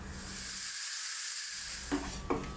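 A pressure cooker full of lamb and potato curry releases a strong, steady jet of hissing steam that swells and then tapers off, followed by a couple of brief clanks and sputters.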